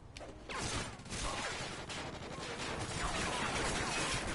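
Call of Duty gunfire crackles in a dense, continuous fusillade of overlapping shots and bursts, loud and sustained throughout with no gaps.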